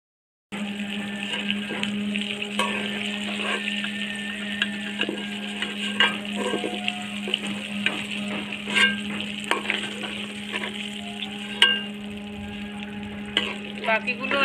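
Chicken pieces deep frying in hot oil for KFC-style fried chicken: a loud, steady sizzle with scattered crackles and pops that runs without pause, over a low, constant hum.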